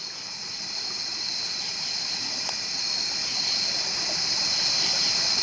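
Water flows steadily in a creek at night as a continuous, even hiss and rush, close and unbroken, growing slightly louder throughout, with no talking.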